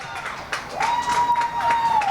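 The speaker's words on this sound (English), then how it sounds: "A lot of attention from the crowd there after that tackle." A crowd at a varsity soccer match applauds and cheers after a tackle, a steady wash of clapping with a whistle-like tone running through it, no voices up front.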